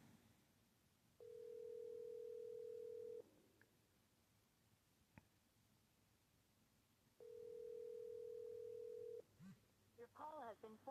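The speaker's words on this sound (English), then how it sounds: "let's try calling" Phone call ringback tone, two long steady beeps separated by a few seconds of near silence, clear and moderately loud, followed by the start of a recorded voice.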